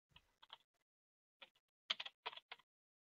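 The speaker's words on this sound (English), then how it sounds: "I have to type the name of the passenger." Computer keyboard keys typed while entering a passenger name into a railway reservation program, heard as quiet, close clicks in short irregular bursts separated by pauses, with no talking.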